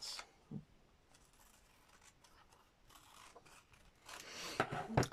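Scissors snipping through paper while cutting out an image transfer for an ATC art project, a few quiet close snips and rasps amid soft handling noise, louder near the end.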